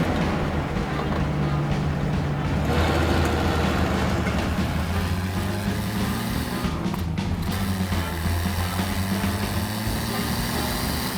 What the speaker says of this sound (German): Ich fahre den Adler Diplomat jetzt wieder zurück in das PS-Speicherdepot Automobil